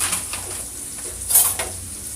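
Wilting greens stirred in a pan, a soft sizzle under a few light scraping and clinking utensil strokes, moderate and close.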